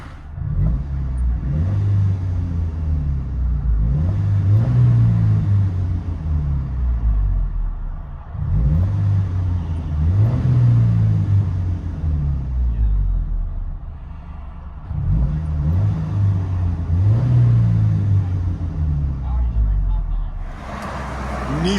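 A 2004 Nissan Frontier pickup with a 2.4L engine and a Flowmaster Delta 40 Series exhaust, heard from inside the cab, revs up four times in steady cycles. Each pass builds to a deep, droning rumble and then drops back to idle.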